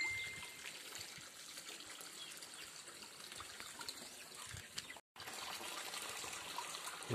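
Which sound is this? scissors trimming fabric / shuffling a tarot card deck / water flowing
water flowing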